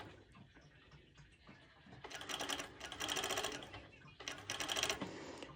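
A sewing machine top-stitching fabric, close up, running in two rapid whirring bursts separated by a short pause, with quiet room noise in between.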